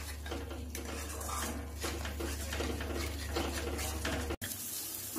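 Spices stirred in a pan over a low flame with salt and a little sugar, a spoon scraping and clinking against the metal pan in a steady rhythm over a faint background hum, close and moderately loud.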